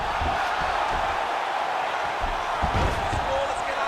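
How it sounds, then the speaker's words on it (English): An arena crowd in a UFC 5 heavyweight fight simulation roars steadily in the background as a commentator talks over it throughout. "big pop from the crowd as they get back to their feet"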